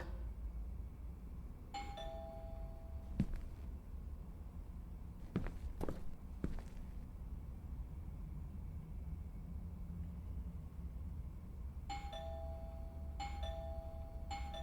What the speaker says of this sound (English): I should just ring the doorbell, see if he answers.